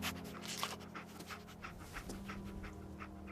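Dogmeat the dog in Fallout 4 panting rapidly and steadily close by, quick rhythmic breaths repeating throughout over a low background hum.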